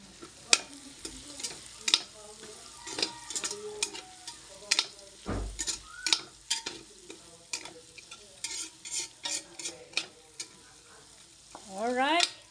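Pancit canton noodles frying in oil and stirred, a quiet sizzle under frequent sharp clicks and scrapes of the utensil against the pan, steady and close, no voices.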